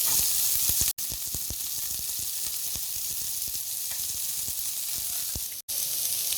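Onions with green chilies, ginger and garlic sizzling in a pan for a Punjabi-style chicken gravy, a loud constant frying hiss with light stirring clicks and two brief cuts to silence.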